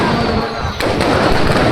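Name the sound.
fireworks bursting at festival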